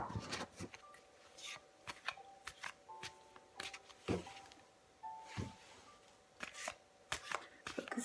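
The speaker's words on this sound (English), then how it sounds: "Actually, I want to shuffle a little bit more in this way." Tarot cards are shuffled by hand in a quiet room, giving repeated soft riffling and tapping bursts at an irregular pace.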